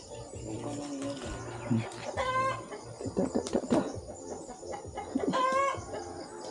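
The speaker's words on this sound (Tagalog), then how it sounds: "Putak-putak na bang manok ni Mario oh." Mario's chicken clucks in short bursts with a few harmonic calls, fairly close, under some background noise and occasional voices.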